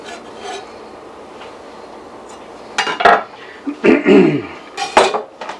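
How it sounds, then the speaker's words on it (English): Chopped garlic, four cloves, dropped into a wok for General Tso chicken, with metallic clatter and scraping of a utensil against the pan, growing louder in the second half with several sharp clanks. "My 4 cloves of garlic, I've chopped them up. Down in the wok."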